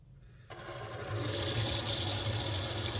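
Water bursts from a shower head fitted with clay beads after a brief quiet start, then runs as a strong, steady, close spray that grows fuller and louder within a second.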